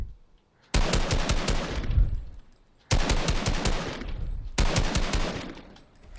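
Assault rifle in Fortnite fires in three long sustained automatic bursts, loud and close, with short gaps between volleys and no talking.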